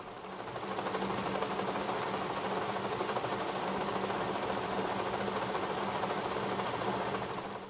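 A Kearney & Trecker 2HL milling machine takes a first pass on a 12-inch camelback straight edge, giving a steady, even mechanical drone and whir that holds alone for about eight seconds without talk.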